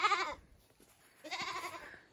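A Nigerian Dwarf goat in a pen gives two close, wavering bleats separated by a short pause, the second one longer.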